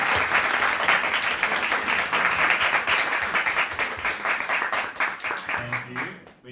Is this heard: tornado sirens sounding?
no